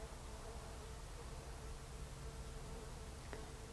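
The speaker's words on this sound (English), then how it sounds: "with the worker bees flying around inside the glove gauntlet" Worker honey bees trapped inside a beekeeper's glove gauntlet give off a steady, close insect buzz that holds level throughout against a hissy background.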